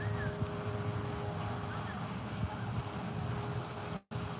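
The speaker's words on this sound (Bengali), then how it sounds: "ওই যখন স্পিড বোটটি আসছে" A speedboat runs on the Atlantic near Wantagh Park in New York, giving a steady engine drone mixed with wind and water noise. The sound continues throughout and cuts out briefly near the end.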